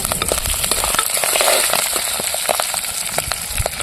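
About ten dry red chillies and a handful of fresh curry leaves fry in hot oil until they turn red. The sizzling is constant and close, with sharp crackles and pops, and no one speaks.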